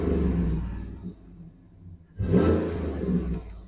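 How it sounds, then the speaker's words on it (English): A Chevrolet SCA Performance truck engine revs twice, first a deep idle rumble that settles, then a sharp throttle blip swelling into a loud, low exhaust growl, close up. "Let's go ahead and give it a rev, hear that exhaust."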